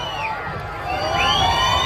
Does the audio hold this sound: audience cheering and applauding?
yes